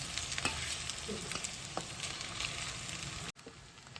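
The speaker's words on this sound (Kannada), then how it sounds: "ಅಕ್ಕಿ ತರಿಯನ್ನು ಹಾಕಿ ಚೆನ್ನಾಗಿ ಒಗ್ಗರಣೆಗೆ ಬಾಡಿಸೋಣ" Cooked, ground rice grits are stirred and roasted in a spiced oil tempering for uppittu, giving a constant close sizzle with soft scraping strokes of a spatula, then a sudden brief drop to a quieter, gentler fry.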